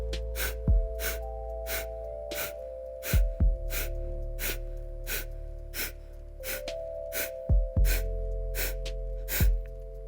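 Rapid, forceful cleansing breaths for cough relief puff out in a steady, evenly spaced rhythm, close and sharp, over a continuous soft tonal background.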